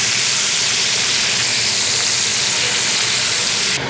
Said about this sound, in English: So we're going in with about 4 to 5 ounces of pancetta. We'll let that cook down, let it crisp up, release all of that fat and flavor in there.